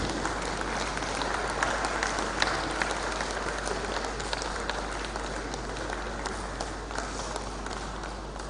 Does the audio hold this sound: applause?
yes